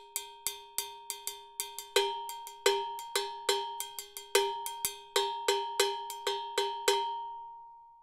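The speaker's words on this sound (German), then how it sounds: "diese Cowbell habe ich schon extrem lange, aber ihr Sound ist immer noch sehr genial und wunderschön" An Afro Salida cowbell is struck alone in a steady rhythmic pattern: about two dozen bright, ringing metallic hits, some accented louder, each with a clear decaying tone and a final note left to ring out.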